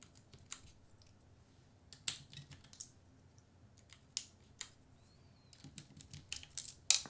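Quiet, scattered keystrokes on a Pangea Mini mechanical keyboard fitted with test switches, sharp clicky taps arriving in irregular bursts over a near-silent room.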